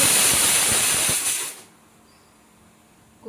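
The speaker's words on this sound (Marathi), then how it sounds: "कुकरच्या 3 शिट्ट्या झाल्यात, ही 4थी आहे" A pressure cooker on the gas stove lets off its fourth whistle, a loud rushing hiss of steam that cuts off abruptly, leaving quiet with a faint click at the end.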